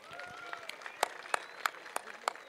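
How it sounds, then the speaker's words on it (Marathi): Scattered clapping from a crowd at an outdoor kushti wrestling dangal in Maharashtra, faint and distant, with a handful of sharper claps rising through a busy background and some murmuring voices. "करा की टाळ्या."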